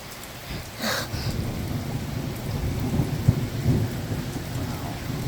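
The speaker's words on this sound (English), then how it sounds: "Okay, hear the thunder." Thunder rumbles through steady heavy rain during a major supercell thunderstorm in Richmond Heights in August, a sharp crack early on followed by deep continuous rolling and the constant wash of rainfall, fairly close and loud.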